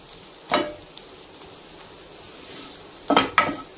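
Masala and garam masala powder are stirred into frying onions, giving a low background sizzle broken by a few distinct spoon scrapes against the pan, one early and a pair near the end.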